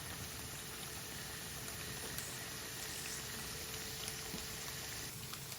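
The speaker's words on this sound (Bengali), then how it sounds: "আমি খুবই স্লো করে বাজলাম যাতে আলুটা সুন্দর করে ভাজা হয়।" Onion pakoras (piyaji) fry slowly in hot oil, giving a faint, even sizzle that holds steady with no voices.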